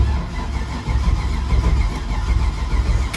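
A 1963 Chevrolet C10 rat rod with an LS engine swap, cold started with a jump box, rumbles loud and close in a steady, unbroken drone with no voices.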